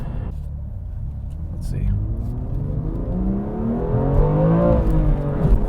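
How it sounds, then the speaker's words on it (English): A 2021 BMW M2 Competition with a manual transmission accelerates from inside the cabin, its engine rumble rising steadily in pitch across a few seconds while someone speaks briefly over it. "it's just so much easier to jump into this car and just, especially with a manual transmission, take off and get going."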